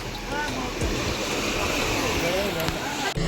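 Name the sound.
sea waves at Mousuni island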